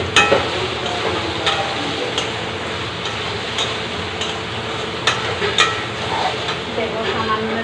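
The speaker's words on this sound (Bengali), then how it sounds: "এই অয়েলেই আমি সোয়াবিন ভেজে নেব।" Soybeans fry in hot oil with a steady sizzle, punctuated by sharp clicks and taps of a utensil against the pan, close and moderately loud, under a woman's speech.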